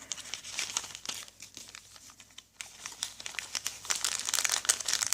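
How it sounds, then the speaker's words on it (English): Close, crisp crinkling of a plastic bag being handled, with irregular rustles growing busier and louder toward the end. "put them in the plastic bag, and arrange them"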